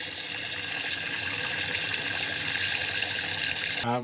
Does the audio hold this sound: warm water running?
yes